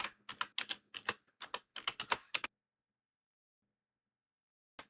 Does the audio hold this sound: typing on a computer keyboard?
yes